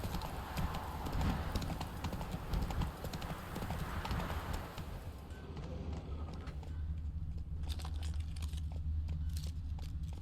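Roach the horse's hooves clop in a steady galloping rhythm in The Witcher 3, loud and continuous, then easing toward a quieter pace.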